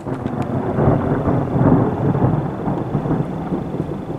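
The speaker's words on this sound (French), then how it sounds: "Oh punaise, il y a de l'orage." Thunder from a storm over a rain-soaked forest: a loud, deep rolling rumble that swells and lingers for several seconds under wind buffeting on the microphone, with no talking.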